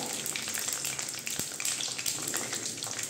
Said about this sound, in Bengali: ঘি আর তেলটা আমাদের গরম হয়ে গেছে, এর মধ্যে আমি দিয়ে দেব এই যে পেঁয়াজ